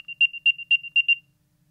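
An Apple AirTag plays its find-me sound: a string of about seven quick high chirps in a fast rising pattern, clear and alone, then silence.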